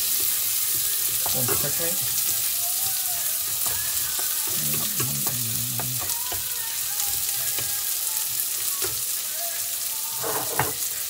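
Onions sizzle briskly in hot olive oil, a continuous crackling hiss with scraping stirs throughout and a voice speaking briefly near the end.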